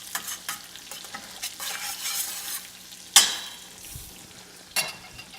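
Garlic and fresh herbs sizzle in a hot pan for filet mignon, a bright steady crackle with spoon-stirring scrapes and two sharp spatters standing out, close and fairly loud.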